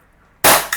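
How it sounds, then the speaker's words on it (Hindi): A Camstar Star RX CO2 pistol fires a single loud, sharp shot that breaks out of near silence, followed a moment later by a smaller second pop, close to the microphone. "चलिए फायर करते हैं"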